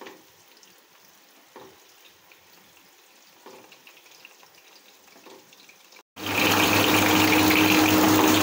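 Chicken pieces for restaurant-style Chicken 555 frying in a pan on a low flame, with faint periodic stirring scrapes followed by a sudden loud, dense sizzling hiss.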